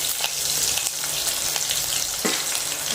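Green chilies and curry leaves sizzling and crackling in hot oil while being stirred, a steady close frying hiss with small pops and scraping stir sounds.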